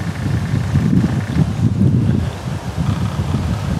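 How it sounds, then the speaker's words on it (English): Wind gusts steadily outdoors at a camp, a loud, low rumbling roar that buffets the microphone and swells and eases without a break. "The wind's picked back up again."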